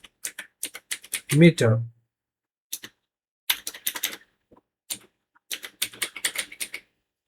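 Fingers tap a computer keyboard while a search is typed into a web browser on a Windows PC, crisp clicks arriving in quick clusters with pauses between, close up, and a brief low sound cuts in near the start.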